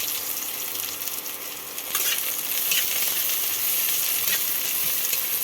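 Chopped onions hit hot oil in a pan for Schezwan chicken pasta, a steady loud sizzle that swells after a couple of seconds and keeps crackling evenly, with no talk.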